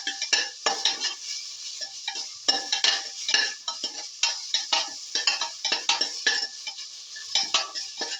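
Tomato pieces and red chilli are stirred and sautéed in a pan, a spoon scraping and clinking in quick irregular strokes over a soft sizzle, close and without talk.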